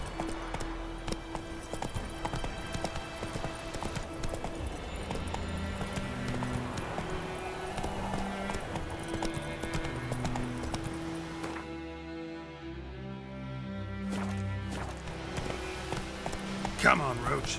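Roach the horse gallops in The Witcher 3, rapid rhythmic hoofbeats running throughout, layered under game music, ambient effects and occasional spoken lines.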